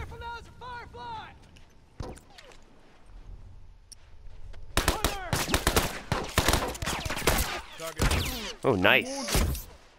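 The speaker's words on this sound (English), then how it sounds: "Wait, where the hell am I getting shot from?" Rapid bursts of close gunfire from The Last of Us Remastered multiplayer crackle in dense volleys, growing heavier in the second half, while a player talks briefly over the shooting.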